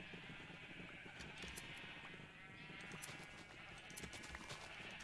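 Sheep bleating in Minecraft, with several short calls in a row against game background sounds and other busy noise throughout.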